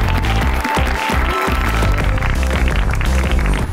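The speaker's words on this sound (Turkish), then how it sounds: "büyük bir alkış." Loud, dense studio audience applause on a Turkish talk show fills the space, blended with bright music playing throughout.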